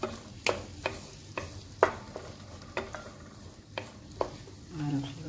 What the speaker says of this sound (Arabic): هي قد ما كتشحر هي كتلقى الذوق ديالها الثومة